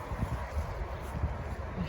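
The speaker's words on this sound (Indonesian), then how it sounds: "Gara-gara angin kencang dan hujan 3 hari" Strong wind during a spell of wind and rain in Melbourne produces a steady, low, rumbling buffet against the microphone that rises and falls slightly, with no voices.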